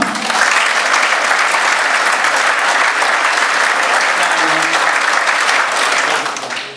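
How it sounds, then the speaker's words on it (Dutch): Loud, sustained applause from a concert crowd at a country music show in SCC Hofdael, 8 April 2011, roaring evenly for several seconds before tapering off at the end. "Dames en heren, geef ze een geweldig applaus."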